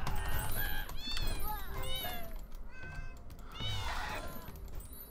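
Several cats meow in the video game Fowl Space, overlapping high, wavering cries, one after another, over a busy game background with a voice talking.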